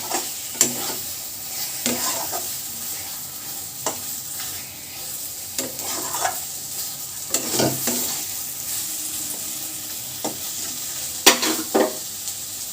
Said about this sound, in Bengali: মাংসের কিমাটা দিয়ে খুব ভালো করে এটাকে কষাতে হবে।